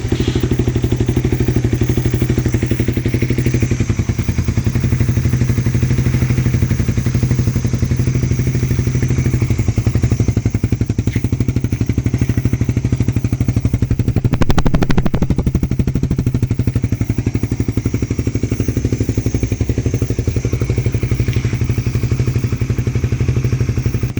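A motorcycle fitted with a Super Kalkal exhaust pipe and silencer runs close up, a loud, rapid, rattling engine putter that holds steady throughout with a brief swell midway.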